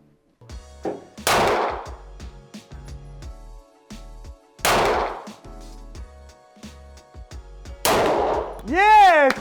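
Several sharp pistol shots from a CZ TS Orange fired at a can, each a loud crack with a ringing tail, spaced a few seconds apart; smaller metallic clicks come between shots and a bright whistle-like tone closes the sequence.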